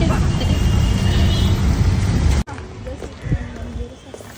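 An auto rickshaw drives through traffic with a steady, loud engine rumble and road noise. The sound drops to a quieter hum partway through, with passing vehicle sounds.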